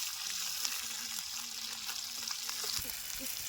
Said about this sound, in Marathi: अशा प्रकारे अगोदर बोटी आपली तळसून घ्यायची